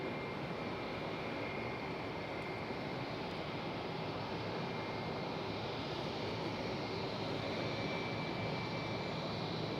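An American Airlines jet airplane at Raleigh-Durham airport, heard as a loud, steady engine roar that holds constant throughout, broadband and continuous with no talk.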